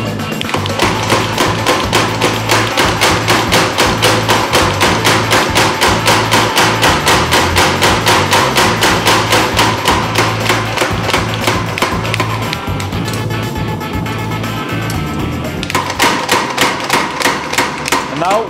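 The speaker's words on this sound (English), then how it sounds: "when I'm forging this dart, I'm like hardly moving any material. I'm just planishing, straightening it a bit" A hammer planishes and straightens a forged steel dart at the anvil with a long, steady run of loud, evenly spaced metallic blows, roughly three per second, going on without a break.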